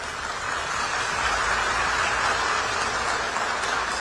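A crowd applauds Modi with a steady wash of many hands clapping. The sound is loud and dense, and it holds for the full stretch without breaks.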